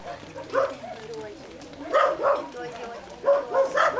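Dogs bark in short clustered bursts at an animal shelter, somewhat distant and roomy, mixed with other yips and background noise.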